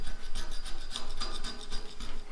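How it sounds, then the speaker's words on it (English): Rapid back-and-forth rasping of sandpaper sanding paint off a buggy, steady scratchy strokes close by with no talking. "testing out a few methods of sanding"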